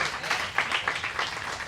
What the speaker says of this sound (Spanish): ¿Cuánto dan un gran aplauso a esta palabra?